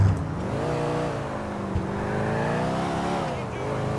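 Car traffic in Grand Theft Auto 4 on the streets of Liberty City, a steady, droning engine hum with shifting pitch that rises and falls over several seconds, fairly close and continuous throughout.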